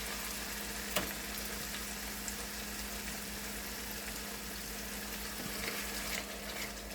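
Ground tomato paste sizzles in hot oil in a pan while a kidney bean curry is cooked, a soft, steady frying hiss that stays quiet and unbroken.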